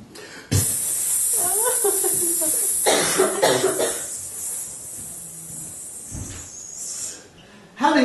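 A man imitates a hairspray can with his voice, letting out long breathy hisses and sputters between pauses in front of a live audience.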